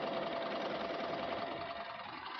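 Close, continuous whirring and rapid ticking of a cover stitch machine chainstitching with its center needle and looper, running at an even speed without any voices.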